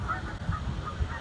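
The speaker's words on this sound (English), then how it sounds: "Those are birds." Geese honk in a short cluster of nasal calls, repeated a few times at moderate distance over a steady background murmur.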